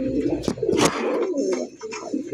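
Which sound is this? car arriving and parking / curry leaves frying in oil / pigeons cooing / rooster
pigeons cooing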